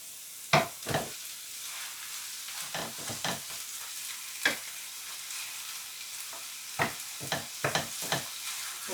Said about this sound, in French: On va pouvoir maintenant rajouter la viande hachée qu'on va faire revenir avec l'oignon et l'ail.